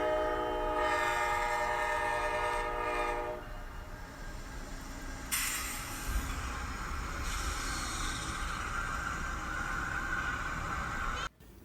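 Train rolling in toward Glacier, Montana in winter, its horn sounding in long sustained blasts over steady rail rumble and hiss, the horn fading partway through and returning briefly later, with no voices.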